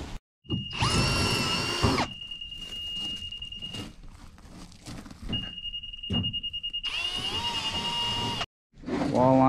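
Power drill driving screws into wooden forms for a concrete drain on a job site, with repeated loud close bursts of whining motor and screw-driving rattle, separated by pauses in which a steady high tone lingers.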